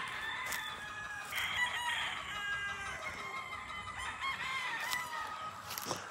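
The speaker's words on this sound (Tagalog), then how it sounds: "Yan po yung mga broodcock" Several broodcock roosters crow on a farm, their calls overlapping at moderate distance with clucking among the flock, and no talk.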